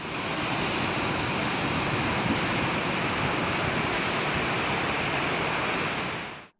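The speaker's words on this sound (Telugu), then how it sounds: "ఆదిలాబాద్ బోత్ మండలంలో ఉన్న పొచ్చెర జలపాతం, నేరడిగొండ మండలంలో ఉన్న కుంటాల జలపాతాల ప్రజెంట్ పొజిషన్ ఇది." Pochera and Kuntala waterfalls in Adilabad, running in flood, give a loud, steady roar of rushing water that stays constant throughout with no voices.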